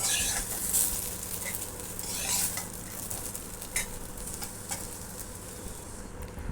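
Soya chunks frying in a kadai, a dense continuous hiss of hot oil, loud and close, with occasional stirring scrapes and clicks over the steady sizzle.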